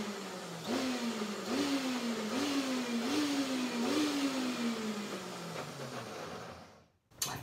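Food processor pulsing cilantro for cashew pesto, a close motor whine that surges in five quick repeated bursts, then winds down and stops.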